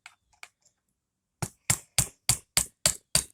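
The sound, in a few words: awl struck with a hammer to tap out a pin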